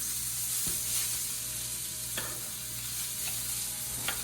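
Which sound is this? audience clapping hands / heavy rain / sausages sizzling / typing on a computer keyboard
sausages sizzling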